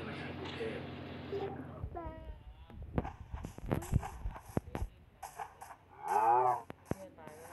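A cow in the video game Minecraft moos in short bursts, close and clear, between a child's chatter and game sounds.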